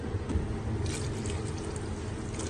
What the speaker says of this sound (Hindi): ये देखिए मैंने इसके अंदर पानी डाल दिया